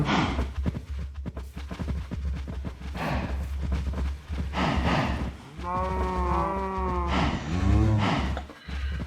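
Cows in the video game Minecraft moo several times in a row, the drawn-out calls fairly close and clear over a steady low background hum.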